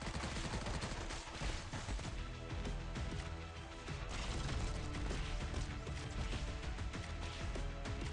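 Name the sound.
gunshots in video game Arknights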